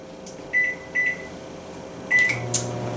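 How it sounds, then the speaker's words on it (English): A low microwave hum runs steadily with a few short beeps from the keypad, fairly quiet and alone. "This is going to go in the microwave for about 45 seconds."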